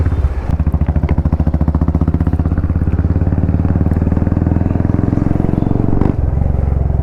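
A Royal Enfield Meteor 350 fitted with an RRP exhaust thumps loudly and close, its engine note rising under throttle, with a sharp crack near the start and another near the end.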